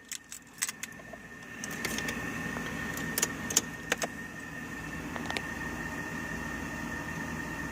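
Car keys jingle and clink close up inside a 2002 Toyota Corolla AE111 with a 4A-FE engine, a few sharp metallic rattles over a low steady hum as the car starts idling.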